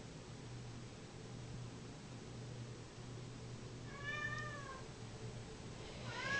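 A black cat gives a couple of soft meows near the end, faint and over a steady background hum and hiss, with no talking.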